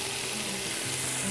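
Meat and masala frying in a pan for kachnaar gosht, a steady close sizzle with light bubbling and no voices.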